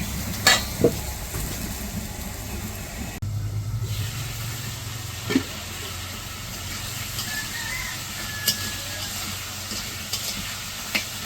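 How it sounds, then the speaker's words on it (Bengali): Potatoes and eggplant sautéed in a pan for a village-style curry, a low steady sizzle with occasional spatula scrapes and a low background hum, moderately close with no speech. "আলু আর বেগুন দিয়ে দিচ্ছি, টমেটো দিব একটু পরে, আর একটু সবজিটি কষিয়ে নেই"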